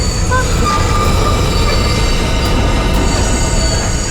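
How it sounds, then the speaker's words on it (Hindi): A train coming to a stop away from any station, with a loud continuous rumble of wheels on rails and high thin squeals of braking wheels running through, close and steady. "ट्रेन यहाँ क्यों रुकी? यहाँ आसपास कोई स्टेशन भी नहीं है।"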